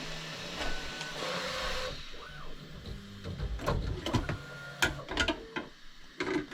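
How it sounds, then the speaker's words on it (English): A Bambu Lab P1P 3D printer at work, its stepper motors whirring and chattering in irregular bursts with clicks and short movement sweeps, fairly close and alone. "I got my bamboo P1P printing this"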